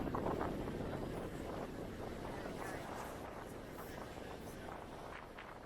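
Wind buffets the microphone on the open top deck of a sightseeing bus near Sydney Harbour, a steady rumbling rush that fades slightly over the few seconds, with faint voices beneath it.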